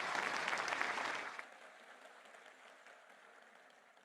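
Audience at a political speech giving a burst of clapping that fades after about a second and a half, leaving a quiet hall with faint room noise.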